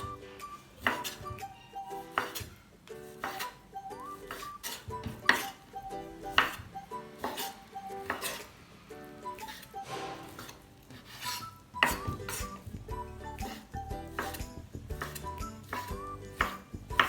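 Chicken being cut into fairly large cubes in a kitchen, with steady knife strokes and clinks of utensils and dishes, close and busy, no talk.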